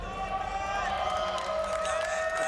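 Loud, continuous crowd roar and cheering in an esports arena for Optic Gaming at a Gears of War 4 Pro Circuit grand final, a dense steady wall of voices with whistles.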